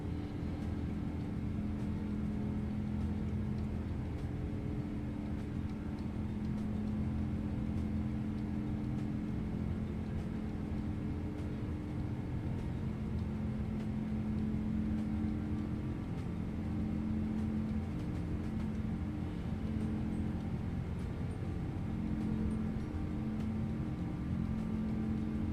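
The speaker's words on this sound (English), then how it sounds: "Airplane's making great airplane noises." A PMDG 777-200 airliner climbs out of Salt Lake City in a flight simulator game. The engine drone is a steady, continuous hum with a low tonal whine, and it holds level and unbroken throughout.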